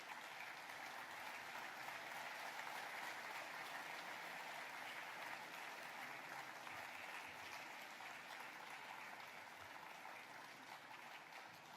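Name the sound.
audience applause welcoming guests into hall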